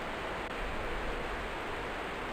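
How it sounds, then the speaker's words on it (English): A television left on after the night's broadcast ended in the DS game Kaidan Restaurant gives off a steady, even white-noise hiss, faint and unbroken. "it was now nothing but white noise"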